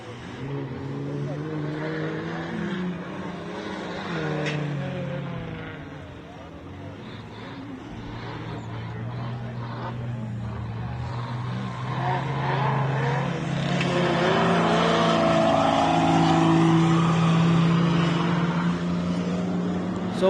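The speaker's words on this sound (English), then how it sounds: "Up next over the MetalCloak start-finish jump is Michael Lee with his savvy Jeep coming through" A Jeep racing over the MetalCloak start-finish jump at an off-road race, engine roaring and revving with rising and falling pitch, growing louder toward the end, under continuous commentator talk.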